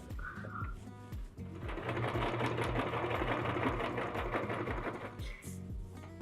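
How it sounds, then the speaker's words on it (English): A sewing machine stitches the final seam of a small fabric basket, running in a dense, rapid mechanical chatter that starts and stops briefly before a long, steady, close-up run, with no talk. "now I'm going to sew the last seam"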